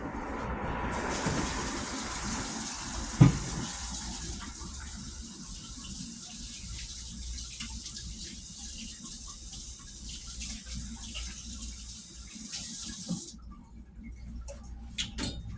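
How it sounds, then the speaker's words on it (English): Tap water runs steadily into a kitchen sink while hands are washed under it, a continuous close gush with a brief clunk early on, then the flow stops near the end. "let me wash my hands."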